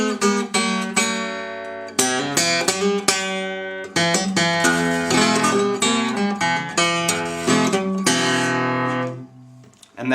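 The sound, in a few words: guitar playing the intro of a blues song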